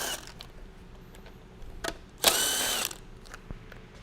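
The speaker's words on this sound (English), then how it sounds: "you can remove the 2 bolts for the left-hand guide" A ratchet works on the bolts of a left-hand timing chain guide on a GM Ecotec 2.2 engine, giving a quiet click, then a loud half-second whir of rapid ratcheting, then a faint tick.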